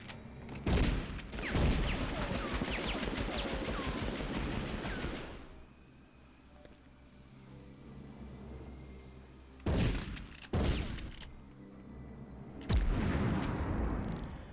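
Explosions and gunfire in the Medal of Honor video game: a long, loud rumbling barrage opens the scene, then after a quieter lull come several sharp blasts and bursts of fire.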